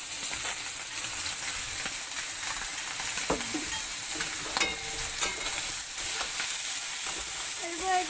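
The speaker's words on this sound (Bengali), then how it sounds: "তো আমরা এবারে চিংড়ি মাছটাকে দিয়ে দেবো কড়াইয়ে।" Prawns frying in a wok with a bay leaf in oil, a constant sizzle broken by scraping stirs and occasional clinks of the spatula, close and clear with no talking.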